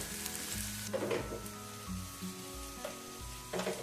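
Vegetables fry in a hot pan with a continuous close sizzle, interrupted by a few louder crackling bursts as the pieces are stirred and moved about.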